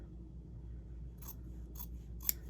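Sewing scissors trim the seam allowance of a fabric facing on a lined garment, giving three short, crisp snips that grow sharper toward the end, the last one the loudest, over a quiet room hum.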